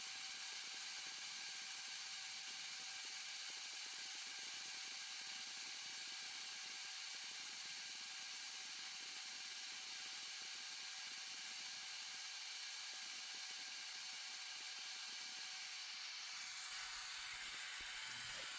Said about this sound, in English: So I put a 800 watt grinder on this thing